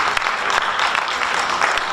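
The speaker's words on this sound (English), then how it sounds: "We deserve great applause, Ayman." Audience applause after a workshop presentation, a steady dense clatter of many hands clapping throughout, fairly loud and with no talk over it.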